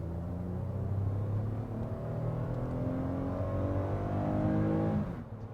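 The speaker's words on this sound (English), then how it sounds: "has a nice powerful V6 engine. It sounds awesome too" A 2018 Toyota Highlander Limited AWD V6 engine revs steadily, its tone climbing and holding loud for about five seconds before dropping off abruptly at the end.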